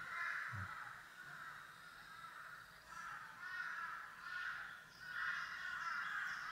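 Repeated harsh crow caws come at a moderate distance, several drawn-out calls spaced a few seconds apart over faint outdoor ambience on a forested hill trail.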